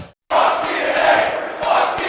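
A large wrestling event crowd roars and chants together in a loud, sustained wall of voices that starts abruptly after a short silence.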